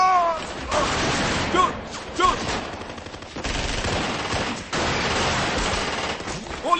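Sustained gunfire from a dubbed action movie scene: rapid, overlapping bursts of automatic weapons fire in a dense, loud barrage that keeps going throughout, with shouting voices mixed in.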